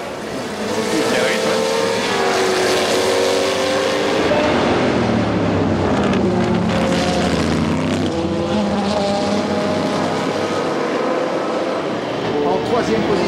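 Maserati and Corvette race cars roar past on a circuit in a steady, loud engine drone that runs throughout, with a French race commentator talking over it.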